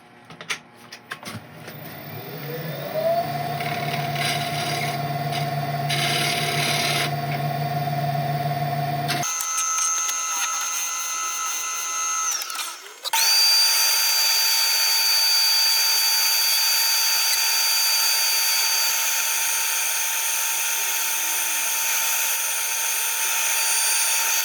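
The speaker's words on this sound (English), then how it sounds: "I'll just do some final tidying up and then we'll start sanding." Power sander or lathe-driven sanding on an epoxy resin woodturned bowl, a steady loud whirring drone that shifts pitch and character partway through, running continuously with no speech.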